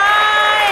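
A church congregation at the RCCG Holy Ghost Congress cheers and applauds, a loud, dense crowd roar with whoops sustained throughout a brief moment.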